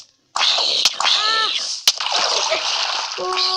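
Water splashes and sloshes in the Minecraft video game, a continuous noisy wash with short sharp hits, and a few brief tonal game sounds near the end.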